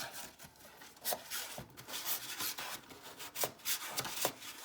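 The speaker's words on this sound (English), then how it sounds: "I'm just gonna get in there and burnish this down." Paper layers are burnished down by hand while a paper backpack is assembled, giving soft, close rubbing and scraping strokes in an uneven rhythm, with no talking.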